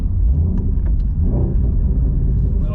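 Ford Mustang GT350 engine in a 2017 model running on the road, a deep steady rumble with low throbbing exhaust tone, loud and continuous inside the car, without a clear sharp rev climb.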